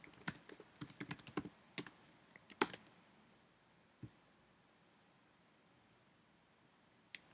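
Quiet typing on a computer keyboard: bursts of sharp, close key clicks in uneven runs, thinning out to a few isolated taps over a soft background hiss.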